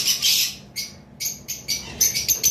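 Green opaline lovebirds give sharp, high squawking calls, one longer burst followed by a quick run of short repeated chirps, close and clear.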